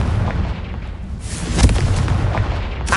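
A Confringo blasting spell explosion from the game Hogwarts Legacy, a loud booming burst that swells midway through over a dense, rumbling game soundscape.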